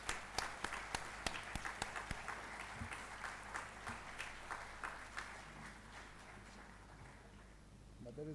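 A crowd at a silver jubilee celebration applauds a naval commander, with sharp individual claps standing out over a dense, sustained round of clapping and light crowd murmur that gradually softens toward the end.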